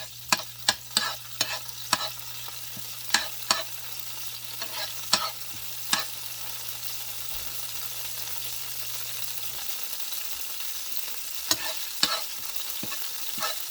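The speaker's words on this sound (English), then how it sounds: "Now we're going to add the sage in here. And we only want to fry this for about 15 seconds." Sage leaves frying in hot oil for risotto: a steady soft sizzle runs throughout, punctuated by sharp clicks and taps of a utensil against the pan, with a low hum fading out partway.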